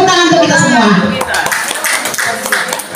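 Brief burst of audience clapping at a high school teacher workshop in an indoor room, loud at first and then thinning into scattered claps within a few seconds.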